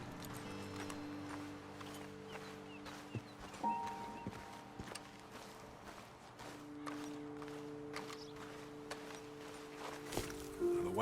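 Horses in the Red Dead Redemption video game, with clip-clop hooves, snorts and tack sounds near and ongoing over an ambient game backdrop with tonal hums, no talk.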